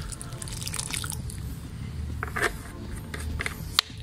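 Water trickles and drips steadily from a watering can onto a tomato plant in a home garden, with small splashes, a few brighter drip ticks and one crisp tap near the end, quiet and without talk.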